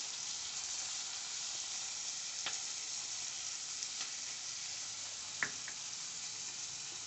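Onions and tomatoes sauté in a pan with rock salt for a radish chutney: a steady, close frying sizzle, with a few faint clicks from stirring.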